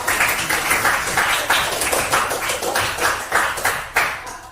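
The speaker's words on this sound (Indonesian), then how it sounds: "Kita tepuk tangan kepada kelompok." A group claps in a rhythmic pattern of repeated bursts, fairly close and steady, with no talking.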